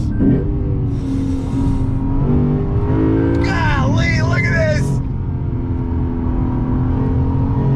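A 2020 Lexus RC F Track Edition accelerating hard on a race track, its engine rising through the revs with a loud, steady roar heard from inside the car, with someone talking over it.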